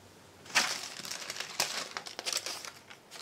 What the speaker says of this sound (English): wax paper, just food grade wax paper.